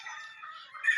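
A chicken, one of a flock being readied for a farm expo, lets out a brief, shrill, high-pitched call lasting about a second.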